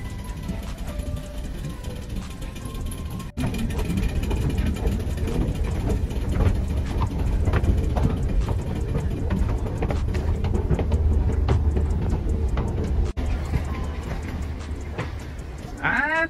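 A Hong Kong train heading toward Tai Po rumbles along at a steady pace with a low, continuous roar from wheels and carriage, a brief jolt or two, and some faint voices in the car.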